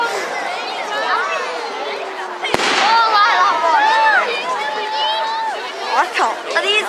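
A fireworks rocket whooshes upward at an outdoor Bonfire Night display at a cricket club, with one sharp crack partway through, over steady crowd chatter and voices talking nearby.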